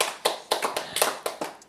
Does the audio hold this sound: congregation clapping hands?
yes